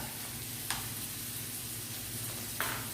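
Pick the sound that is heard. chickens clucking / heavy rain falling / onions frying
onions frying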